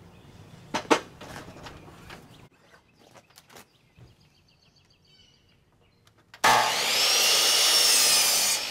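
Hand sawing on wood in short strokes, then quieter scraping and tapping, before a loud, rough burst of continuous cutting noise at the end.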